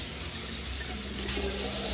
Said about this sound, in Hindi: काफ़ी सारा गर्म पानी मैं इसमें डाल लूँगी